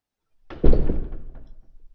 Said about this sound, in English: It was the door, except this time the door was slamming shut.